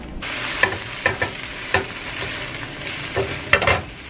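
Organic power greens of baby chard, kale and spinach fry in a hot pan with a steady close sizzle, punctuated by repeated sharp clanks and scrapes as the leaves are tossed and stirred.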